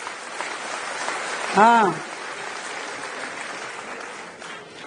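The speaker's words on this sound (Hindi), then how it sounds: "तालियां धीमे हैं भाई" An audience at a Delhi Chief Minister's public address claps in a steady, subdued wash of applause, with one short spoken word rising briefly over the clapping.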